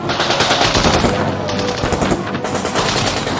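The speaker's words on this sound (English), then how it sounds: "a ferocious firefight broke out" Heavy gunfire from a ferocious World War II firefight in Normandy, with machine guns firing continuously in dense, loud bursts alongside scattered rifle shots.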